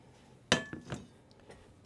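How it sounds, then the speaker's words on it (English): A spoon stirring a potato casserole mixture in a bowl, heard as a few sharp clinks against the bowl, one loud knock followed by softer taps, close and alone. "And give it a stir, mix it all together."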